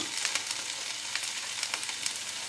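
Potatoes fry in a pan with a soft, steady sizzle. Small crackles and pops break through now and then, and no one speaks.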